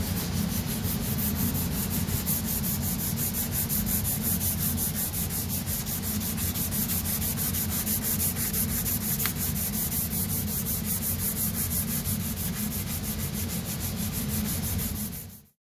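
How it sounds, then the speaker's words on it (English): Steady continuous rasping of 400-grit sandpaper rubbed across a metal etching plate during plate prep for printmaking, close and even in level throughout with no talk. "we're going to take the 400 sandpaper, 400 grit, a little bit more gritty"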